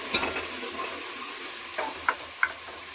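Tomatoes and peas hit a sizzling pan for Russian-style rice, a steady frying hiss broken by a few quick clinks and taps of a utensil, no voices.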